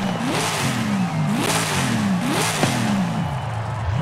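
A supercharged 1969 Dodge Charger R/T in Forza Horizon 5 revs in about four rising and falling surges, a loud, close engine roar with no talking.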